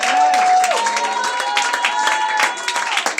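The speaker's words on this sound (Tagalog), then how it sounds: "Palakpakan natin ang ating dakilang Panginoon." A church congregation claps in praise of the Lord for a few seconds, a steady dense patter spread through a reverberant hall while a sustained musical tone plays underneath.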